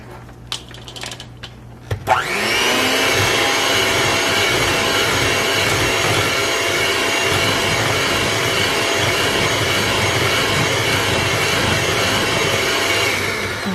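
An electric mixer beats butter into vanilla cake batter, starting abruptly after a quiet moment and then running as a loud, steady whir that holds for the rest of the stretch with no talk.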